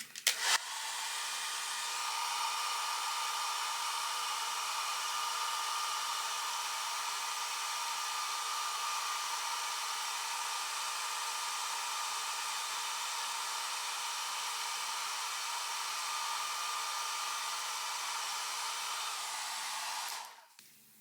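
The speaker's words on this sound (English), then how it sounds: "we're gonna do is use a blow dryer and press everything down with like a rat tail comb" A hair dryer presses down a hairline on a wig, blowing steadily and loudly for about twenty seconds, switching on at the start and cutting off near the end.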